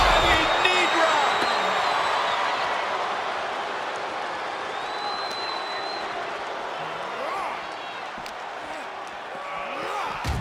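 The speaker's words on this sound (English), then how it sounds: "Thunderous applause for these competitors." Crowd applause and cheering fill an arena during a WWE 2K26 wrestling match, a steady loud roar under game commentary voices, with occasional impacts and rising swells.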